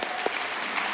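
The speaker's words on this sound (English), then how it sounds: "I'm clapping too, believe me, I'm clapping too." An audience claps in a steady, moderate patter that fills the moment, with no voices over it.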